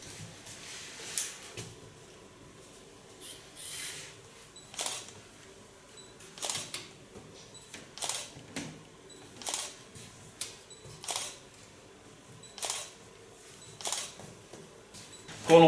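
A camera shutter clicks crisply about a dozen times at irregular intervals, a second or so apart, as photos of a freshly cut ultra-short hairstyle are taken in a salon; quiet room, no talk.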